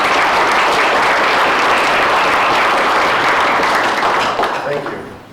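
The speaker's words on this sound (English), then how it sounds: "Let's give a round of applause for Brad Hughes." A forum audience gives a loud round of applause for Brad Hughes, dense sustained clapping that tapers off at the end.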